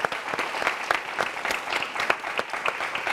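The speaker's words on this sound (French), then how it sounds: "ces bénévoles qui vont s'applaudir très fort quand même, les amis" Audience applause for volunteers at a French-language talk event, a steady dense patter of many hands clapping, moderately loud and continuous throughout, with no voices over it.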